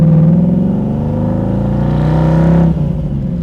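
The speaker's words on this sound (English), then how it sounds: "let's go for a ride in the 65 Restomod Mustang" A 1965 Ford Mustang convertible restomod drives along with a steady, loud engine drone rich in low harmonics. The pitch rises slightly before a shift near the end drops the note.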